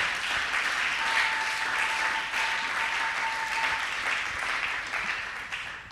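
A church congregation applauds steadily for about six seconds, a dense, even wash of clapping with a few faint cheers and voices mixed in.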